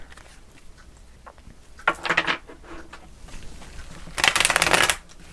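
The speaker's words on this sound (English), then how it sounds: "all the decks I'm using today are a bit more difficult to shuffle" A cat-themed tarot deck shuffled by hand in two quick riffling bursts, the second louder and longer, close up in a quiet room.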